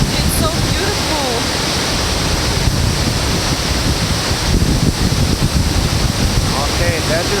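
A waterfall plunging into a lake makes a loud, constant roar mixed with wind buffeting against the microphone, and a voice can be heard faintly beneath it.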